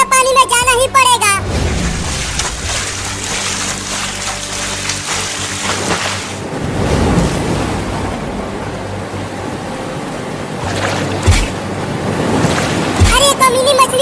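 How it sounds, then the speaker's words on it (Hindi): Heavy rain pours in a cartoon animation, a steady, dense rushing wash that fills the whole clip and swells at moments, with cartoon voices talking over it. "अभी भी बारिश बहुत तेज हो रही है"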